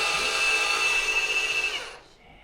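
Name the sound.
Ryobi mud mixer starting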